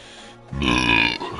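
A single loud, close burp after drinking ginger ale, rising abruptly and lasting about a second.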